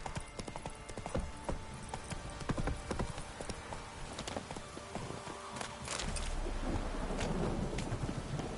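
A horse in a video game gallops with rapid, continuous hoofbeats against a rumbling, stormy ambience, and the galloping grows louder and denser toward the end.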